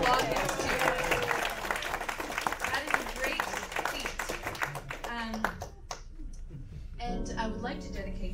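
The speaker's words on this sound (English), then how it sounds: "I think we should all applaud this too." A cabaret audience breaks into dense, sustained clapping for a couple celebrating twenty years of marriage, the applause filling the room for several seconds before fading as music begins.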